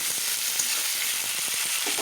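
Chopped onion that has already browned, now joined by tomato, frying for a Bengali pangas fish bhuna: a steady, dense close-up sizzle with faint stirring clicks, no talking.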